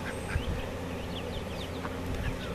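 Ducks and chickens huddled in a garden yard, pecking organic oatmeal off the ground, giving a busy close mix of soft quacks, clucks and chirps over constant outdoor buzzing, with no speech.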